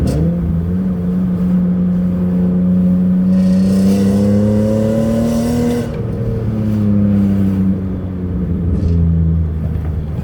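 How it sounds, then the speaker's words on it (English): A BMW E39/E46 with an M54 engine and a replaced hose under the intake manifold, heard from inside the car, with a loud steady engine drone that rises and falls as it is downshifted, and rough crackles near the end. "That's a lot of backfire with that that hose being replaced"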